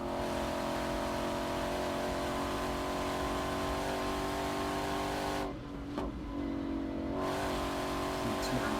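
A Ford Mustang GTD at full pace on a Nurburgring lap, its engine droning loud and steady with a strong harmonic whine, briefly dipping as it lifts off before pulling hard again.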